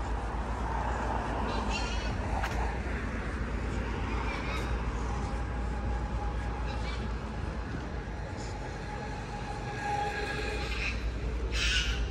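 Crows caw and ducks quack outdoors in Turkey during a hot summer day, faint and scattered over a steady background noise, with no clear talking.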